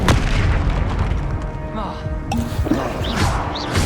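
A Confringo spell blast from the Hogwarts Legacy video game, a heavy booming explosion with crashing debris, layered over a busy mix of game effects and a voice.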